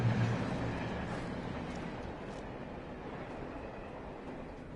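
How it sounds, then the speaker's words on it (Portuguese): A train in Alan Wake Remastered rumbles along as a steady, fairly faint low roar with a constant hiss, unchanging throughout and with no other sounds standing out. "Olha o trem."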